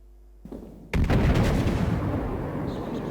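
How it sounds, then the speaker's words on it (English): A broadside salvo from the battleship HMS Warspite's big naval guns in a World of Warships naval battle, one sudden massive boom that rolls into a long, loud rumbling roar. "Give him a salvo."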